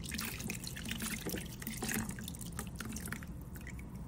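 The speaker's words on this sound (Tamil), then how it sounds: "இப்போ இந்த இடத்துல மட்டும் பச்சை தண்ணி ஊற்றி காட்ட பாருங்க." Plain water splashes and drips steadily, poured from a small vessel over a metal idol being cleaned, with a continuous trickling wash throughout and no talking.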